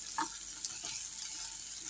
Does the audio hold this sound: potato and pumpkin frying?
yes